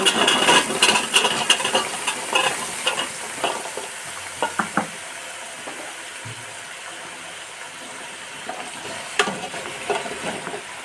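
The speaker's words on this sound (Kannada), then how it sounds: "ಇದನ್ನು ಚೆನ್ನಾಗಿ ಫ್ರೈ ಮಾಡ್ಕೋಬೇಕು ಚೆನ್ನಾಗಿ ಫ್ರೈ ಮಾಡ್ಕೋಬೇಕು" Four kinds of vegetables fry in a pan for vegetable sambar, a dense sizzle with busy stirring scrapes early that thins to a quieter hiss with occasional clatters, close up, no talking.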